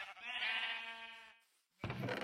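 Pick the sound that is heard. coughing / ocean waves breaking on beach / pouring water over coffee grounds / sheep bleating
sheep bleating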